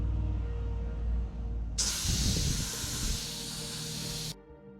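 Aerosol can spraying colour-matched white paint onto an Aprilia RS50 decal, one steady hiss lasting a few seconds, close and fairly loud over quiet background.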